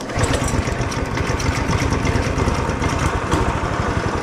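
An off-road drag minibike engine with a different intake and exhaust runs steadily and loudly up close, a continuous rough, buzzing drone with no talking.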